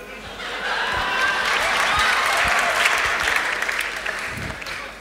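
Studio audience at a televised quiz competition breaking into steady applause, a dense wash of clapping that swells and holds at moderate loudness with a faint chuckle or two underneath.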